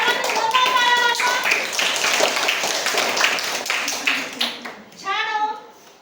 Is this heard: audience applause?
yes